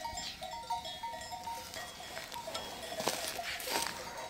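Sheep flock grazing in a highland meadow among pine trees, with the sheepdog walking among them, faint distant bleats and the soft patter of hooves mixed with scattered small bell-like tones.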